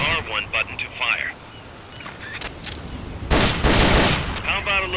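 Gunfire during shooting practice in the video game Metal Gear Solid: Peace Walker: a few sharp shots early on, then a dense, loud burst of rapid fire near the end, mixed with game voices and effects.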